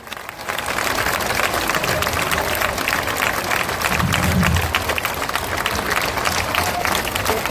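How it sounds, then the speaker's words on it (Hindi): Sustained, loud applause from a large crowd at an outdoor political rally in Bihar, dense clapping filling the whole stretch without a break. "जोर से ताली बजाइए।"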